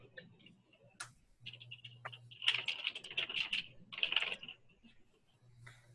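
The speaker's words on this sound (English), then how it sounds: "I can type it right here." Bursts of typing on a computer keyboard, quick clusters of close clicky keystrokes separated by pauses, with a low hum underneath and no speech.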